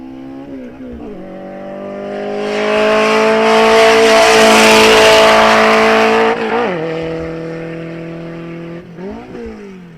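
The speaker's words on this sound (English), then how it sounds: "It's a little Datsun, but here we go. Let's not play, let's test it out." A small Datsun drag car roars off the line at a drag strip, the engine climbing through gears with a long loud rising rev that swells then fades with the car moving away, followed by a shift and further distant revving.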